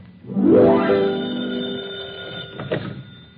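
An old-fashioned telephone bell rings in a vintage radio drama, one loud, jangling burst that fades away, followed by a shorter second ring. No voices are heard.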